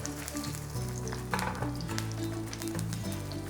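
Kimchi pancake (kimchijeon) fries in a pan with a steady, close crackling sizzle and bubbling oil, broken by a few light clinks, with no talking.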